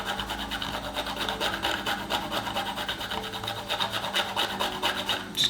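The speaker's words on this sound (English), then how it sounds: "I've got this weird little thing which takes your nutmegs in it, and it's got a grater on top" Whole nutmeg is rubbed over a small grater that sits on top of a nutmeg holder, making quick repeated scratchy rasping strokes at close range for several seconds, with no voices.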